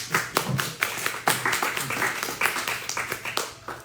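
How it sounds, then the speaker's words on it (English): Applause from a small gathering for a speaker, made of distinct, fairly close claps in an irregular rhythm against a steady low hum. "Let's give Dan a big round of applause here."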